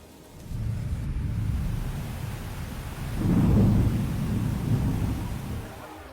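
Heavy rain pours in a dense, steady wash while deep rolling thunder swells partway through and lingers, loud and close, with no voices.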